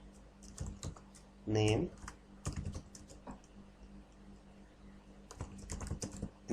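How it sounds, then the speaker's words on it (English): Quiet clicks of a computer keyboard as text is typed into an Excel pivot table, soft irregular keystrokes in short bursts with a brief spoken word partway through. "type in the table"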